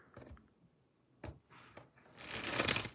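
Tarot cards being shuffled close by: a few soft taps and slides, then a longer riffling burst near the end, faint and quiet otherwise.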